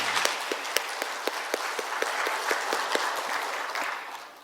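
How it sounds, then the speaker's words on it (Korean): A crowd applauds steadily for several seconds at a church worship service, with dense clapping that gradually softens, heard from within a large room. "하나님께 영광의 박수를 드리겠습니다."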